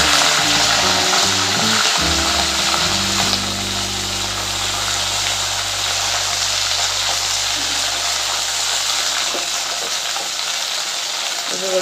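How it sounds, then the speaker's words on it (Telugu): Green chillies and dried red chillies sizzle loudly in hot oil for gongura pachadi, a steady close crackle and hiss that runs throughout with no speech over it. "ఆయిల్ అయితే వేడైంది అయితే వేద్దాం పచ్చిమిరపకాయలు కొన్ని ఎండుమిరపకాయలు"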